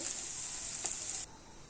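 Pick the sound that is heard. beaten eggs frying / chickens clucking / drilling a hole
beaten eggs frying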